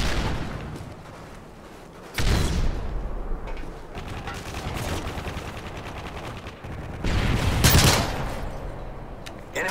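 Call of Duty MW3 team deathmatch gunfire on the Outpost map, with repeated automatic bursts and sharp single shots in close succession, loud and near, and heavier volleys toward the end.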